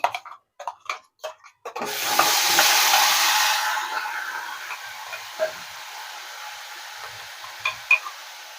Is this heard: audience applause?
no